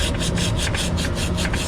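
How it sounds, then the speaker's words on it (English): Sandpaper rubbed back and forth on a metal pipe before brazing, a loud close rhythmic scratching in about eight even strokes with no voices. "I like to clean it with some sandpaper"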